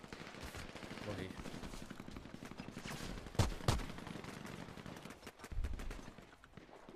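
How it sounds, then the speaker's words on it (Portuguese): Gunfire in an online PvP shooter game, rapid bursts of shots with two sharp louder reports midway, heard over a busy game mix with faint talk underneath. "quem tá me atirando"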